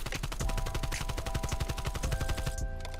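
An AK-74U fires a long sustained automatic burst in Call of Duty: Black Ops Cold War, rapid, loud, evenly spaced shots close up, ending in a sudden stop.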